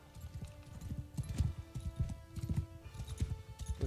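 Horse hooves clip-clopping in the Mount and Blade 2 Bannerlord video game, a rapid, steady galloping patter of many close hoofbeats with faint whinnies and battle ambience behind.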